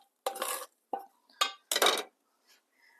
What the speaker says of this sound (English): we're just going to drain this. While that hamburger is draining